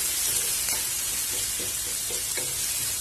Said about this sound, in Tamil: இது இதோட சேர்த்து நல்லா வதக்கி விடுங்க